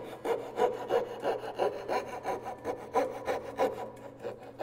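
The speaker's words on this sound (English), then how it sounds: "I'm going to start moving the saw back and forth, but I'm not really cutting it until I've rotated it." A hand saw cutting dovetails in wood, close rhythmic back-and-forth rasping strokes, about thirteen evenly paced pulls and pushes, with no one speaking.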